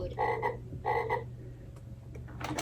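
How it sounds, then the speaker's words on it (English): Recorded toad croak played from a LeapFrog animal toy book, two pairs of buzzy, clipped croaks in an even rhythm, close and clear, with a few faint clicks afterward. "toad"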